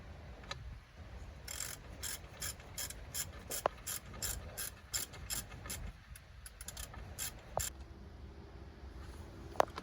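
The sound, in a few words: ratchet tightening top bolt during M37 wheel bearing change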